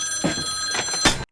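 An old-fashioned 1980s telephone bell rings in bursts with a bright metallic jangle, three pulses in quick succession, loud and close, with no voices over it.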